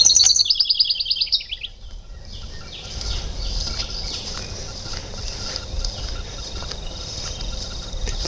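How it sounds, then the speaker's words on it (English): A bird calls in the evening woods with a bright rapid chirping burst at the start, then fades into a steady background of faint insect or cricket trill and distant rustle, with no talking. "Bird up there."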